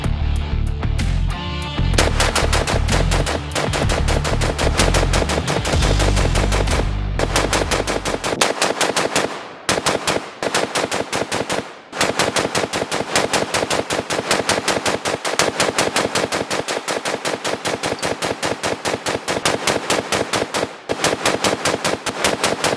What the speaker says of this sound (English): the burn down is 500 rounds as quickly as possible